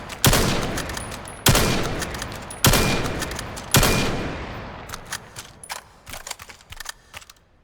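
SMG fire in the video game Weapons of Vail: four loud, sharp shots about a second apart, each with a decaying tail, followed by softer mechanical clicks and rattles.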